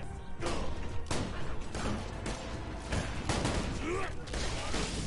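In the video game Borderlands 2, during the Mr. Torgue's Carnage DLC, an explosion bursts loudly among several sharp, crashing blasts and heavy gunfire in quick succession.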